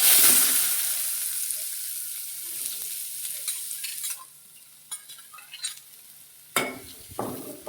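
Chopped onions fry in hot oil with fennel seeds for prawn gravy, a bright crackling sizzle that fades gradually, followed by a few scraping stirs of a utensil in the pan.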